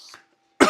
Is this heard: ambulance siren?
no